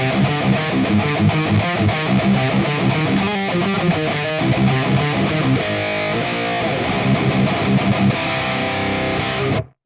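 High-gain distorted electric guitar through a Valeton GP-5 with its high-boost EQ switched off, steady loud chugging riffs and sustained chords throughout, ending abruptly.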